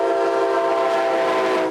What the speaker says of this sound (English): When I heard the train horn and the iron came down, it was about 34 seconds as the train arrived through this crossing.